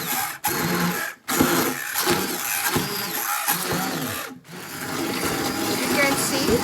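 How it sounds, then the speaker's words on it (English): An immersion blender whirs loudly through thick potato and leek soup, its motor droning with brief pauses and shifts in pitch as it purees. "I'm going to use my immersion blender, make some noise, but I'm going to puree everything."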